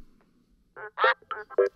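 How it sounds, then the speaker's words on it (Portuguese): A cartoon duck from a children's animated show lets out several short nasal quacks in quick succession, clear and close, after a brief quiet start. "É o pato."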